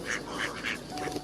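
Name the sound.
ducks quacking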